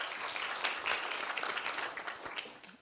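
Warm audience applause at a Latvian precision medicine forum, dense and sustained clapping from a roomful of people that slowly thins out toward the end.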